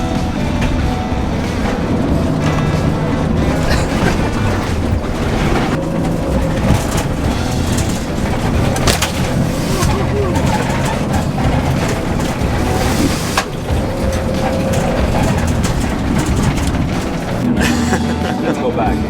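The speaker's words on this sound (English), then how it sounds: "Literally just drifting through these corners in a huge Sprinter van." A huge Sprinter van drifting off-road through corners on dirt tracks in Baja, with a steady loud rumble of engine, tyres and gravel running throughout, and voices talking over it.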